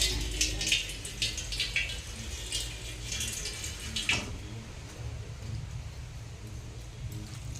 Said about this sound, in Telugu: ఇందులో కొన్ని వాటర్ పోసుకుందాం